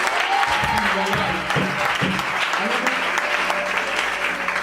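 A church congregation claps in sustained applause, dense and continuous, with a voice speaking over it.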